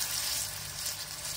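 Thin bombil fish cutlet batter fries in a hot pan, giving a steady, close, bright sizzle that hisses evenly throughout with no voices.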